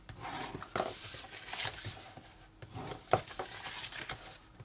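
Paper card stock folded along score lines and burnished while making a small box, giving soft rubbing and rasping crinkles with a few sharper creases, close and fairly quiet, no talking.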